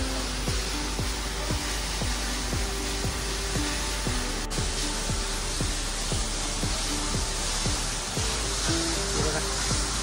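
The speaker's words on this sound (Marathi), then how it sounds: "ही आहे ती छोटीशी केव आणि ह्याच्या समोर पडणारा हा धबधबा" Small waterfall spilling in front of a little cave on a monsoon hike near Khopoli, a steady, dense roar of falling water close by, with faint rhythmic ticking beneath the wash and no talking.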